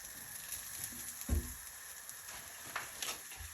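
Onions frying in a pan over medium-high heat, a soft steady sizzle with a faint crackle and one brief knock near the start, quiet and close.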